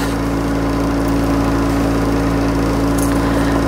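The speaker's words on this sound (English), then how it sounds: "that noise of the engine is doing our heads in" A small boat engine drones loudly and continuously nearby, a steady high-pitched whine with a constant low hum beneath it.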